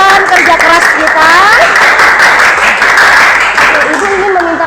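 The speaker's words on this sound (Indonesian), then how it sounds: "tepuk tangan untuk semua semangat dan kerja keras kita" A classroom of students applauds loudly and steadily for several seconds, dense clapping filling the room while a voice speaks over it.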